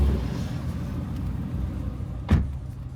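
Car engines idling together at a car meet, including a 1000-horsepower car on slick tires, a deep low rumble that fills the background, with one sharp thump or brief rev standing out near the end.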